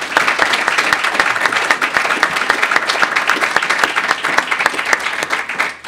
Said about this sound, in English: I want to give the panel a round of applause.